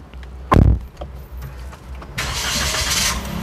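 Toyota Raize 1.0 turbo engine with CVT, 2021–2022 GR Sport, cranking with a loud short catch and then settling into a steady, close idle hum with a hissing rush layered over it.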